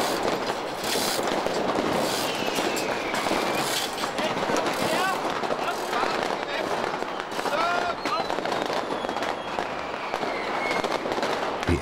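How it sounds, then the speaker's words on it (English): Firecrackers and champagne corks popping across a city on New Year's Eve, a dense, continuous crackle of bursts with whistling streaks rising through it, steady and fairly loud, with crowd voices mixed throughout. "Champagne corks and firecrackers pop all over the city."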